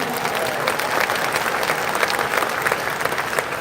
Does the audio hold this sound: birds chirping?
no